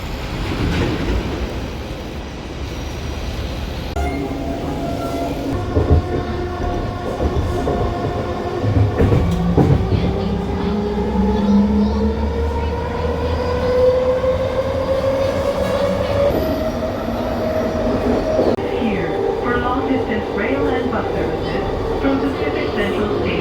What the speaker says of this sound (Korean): 열차가 와요.